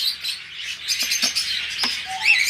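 A pair of creamino red pet birds gives quick, high chirps and twittering calls close by, with a few sharper isolated notes and no talking.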